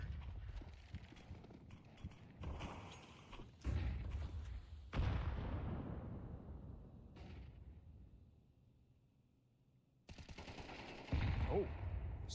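Bursts of rapid gunfire from a Counter-Strike match ring out in several separate volleys, some sharp and close, with quieter decaying stretches and a near-silent gap between them.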